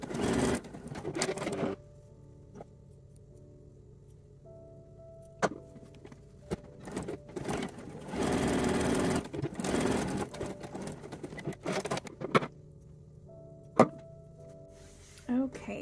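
A sewing machine top stitches a seam on a lined-cup teddy garment in short, intermittent bursts of whirring with quiet gaps between, close and moderately loud.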